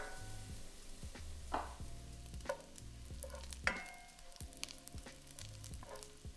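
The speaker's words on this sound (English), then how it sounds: "add in those chorizo crumbs and fry for about 5 minutes, stirring every so often until they're slightly crisp" Chorizo crumbs frying in a frying pan, a faint steady sizzle with light scraping and tapping as the pieces are stirred, close and quiet with no speech.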